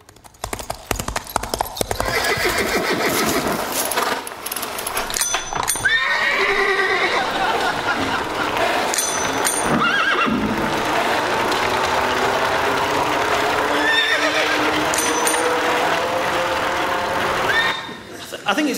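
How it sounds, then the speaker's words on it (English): Simulated sound of a horse riding a bicycle: steady clip-clop hooves and whinnies mixed with a ratcheting freewheel and the ring of a bike bell, running continuously under people talking. "what it would sound like if a horse were on a bike"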